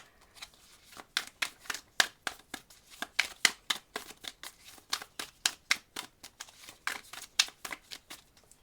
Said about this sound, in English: Let's put down 3 cards to give us more detail about Saturday